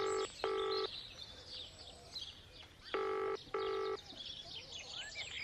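Telephone ringing tone heard down a line whose cable has been cut, two paired bursts of the electronic ring separated by a pause, with faint birdsong and outdoor ambience between them.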